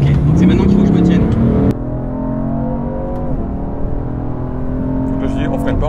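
A sports car revs hard on a race circuit, then the engine note drops as it eases off and picks up again, loud and close throughout with a steady droning whir.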